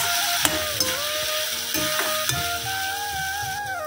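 Potatoes and radish tossed with salt and spices in a pan, a steady soft sizzle with a few sharp utensil scrapes and taps on the metal, close and fairly even.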